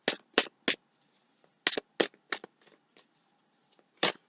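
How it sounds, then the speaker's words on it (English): Tarot cards are shuffled by hand in a series of sharp riffling bursts, three quick ones, a pause, then several more in an uneven rhythm, close and crisp with near silence between. "We're going to do some shuffling."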